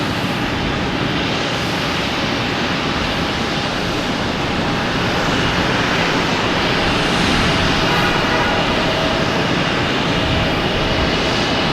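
A Japan Airlines jet at Boston Logan Airport gives off a steady, loud roar of engine noise heard from a nearby parking lot, with a faint whine running through it and no talking.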